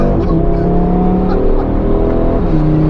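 An Audi RS3 slides and accelerates, its engine a loud, close, sustained roar with steady pitch shifts across a few seconds and no talk over it.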